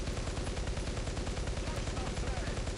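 Rapid 12.7mm heavy machine gun fire from a vehicle in a War Thunder battle against Japanese forces, a loud, dense, continuous stream of shots with steady rhythm.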